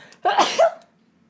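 A single sneeze, close and fairly loud, a sharp burst followed by a short trailing exhale, then quiet.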